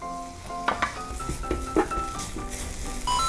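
Bacon sizzling in butter in a pan for a potato and cheese pan pizza, a steady soft sizzle broken by a few sharp clinks and stirring scrapes, close and moderately loud.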